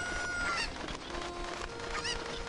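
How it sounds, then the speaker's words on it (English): Chicken clucking in the video game The Legend of Zelda: Ocarina of Time, a few short squawking calls over a soft game background, with no talk. "Damn it, stupid chicken."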